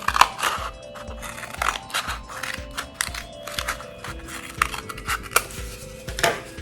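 Scissors cut through paper nearby in a string of short, crisp snips and crunches at an uneven pace, with faint handling noise between the cuts.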